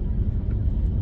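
Car traffic on a loud road makes a continuous low rumble, close and fairly loud, with no distinct passes and no talk.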